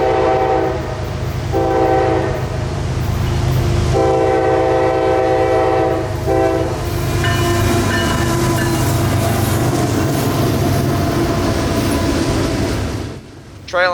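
CSX freight train 603 rolls through a railroad crossing, its horn blasting in repeated loud bursts over a steady rumble of engines and rolling cars, close and continuous throughout.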